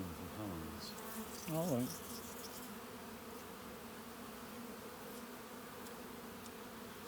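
Honey bees buzz steadily around hive frames during a beekeeping session, a faint continuous hum heard up close, with brief talk near the start.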